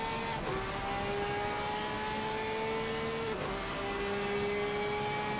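GT3 race cars circulate at Suzuka, with a steady engine drone and sustained tonal whine that shifts pitch as cars pass. Steady background noise runs throughout.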